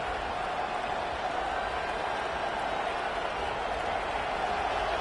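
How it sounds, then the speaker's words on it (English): Crowd noise from a Nebraska vs USC simulation in College Football 25, a steady, dense roar of stadium cheering that holds evenly throughout at moderate volume. "This crowd bringing the energy and noise early."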